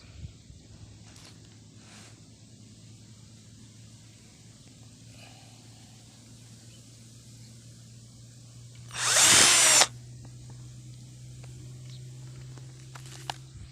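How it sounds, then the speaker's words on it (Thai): Cordless drill boring a hole, a single loud burst of about one second of whirring and grinding close to the microphone, set against quiet room hum and a few faint knocks. "ครับเดี๋ยวจะเจาะดูนะครับ"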